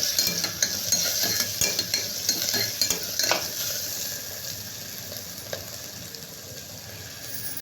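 Ginger garlic paste and curry leaves sizzle in a frying pan while a spoon stirs them, with quick scraping and clicking strokes up front that give way to a steadier fry hiss.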